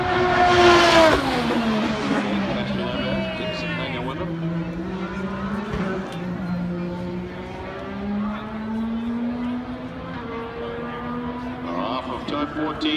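IndyCar race cars lapping the Indianapolis Motor Speedway road course during the 2017 IndyCar Grand Prix, a sustained high-pitched engine whine that rises and falls with gear changes, loud and continuous throughout.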